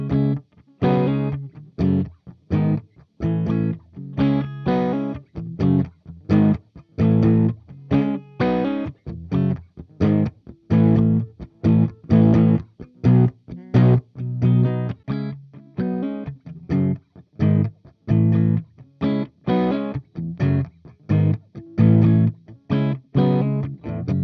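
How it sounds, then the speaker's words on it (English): A heavily distorted electric guitar through a Peavey Invective MH 20 amp and 2x12 cabinet chugs out steady, rhythmic palm-muted riffs with short choppy breaks, loud and up close for the whole stretch. "We're going to hear clean tones, lead tones, different guitars."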